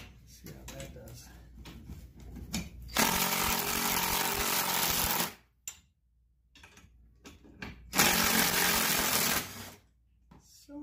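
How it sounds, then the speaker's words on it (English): A power drill runs in two long bursts of loud whirring while fitting a level kit on a 2018 Chevy Colorado, with quieter pauses and handling noise in between. "At a certain point, I'm going to use my drill."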